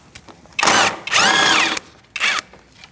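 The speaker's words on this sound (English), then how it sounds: "Using a 10mm socket, we're going to take out this bolt." A power tool with a 10mm socket removes a bolt during headlight replacement on a 2008-2014 Mercedes-Benz C300, giving three loud, close whirring bursts, the second the longest, separated by short pauses.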